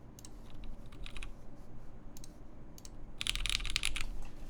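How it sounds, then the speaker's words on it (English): Bursts of clacky keystrokes from a mechanical keyboard with a force break mod, typed in short quick runs separated by pauses, ending in a longer, denser flurry against a low background hum. "let's try typing."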